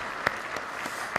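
Church congregation clapping to welcome children, heard as a soft, diffuse patter of hands with a few sharper claps standing out, brief and moderately distant.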